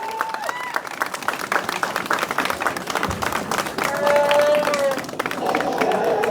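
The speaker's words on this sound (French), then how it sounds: "On peut les applaudir encore une fois" Audience applause for Robert Picardo and Jonas Suatomo at a sci-fi fan convention, a dense crowd of clapping with a swelling section midway, while tonal sounds and a voice come through over the clapping.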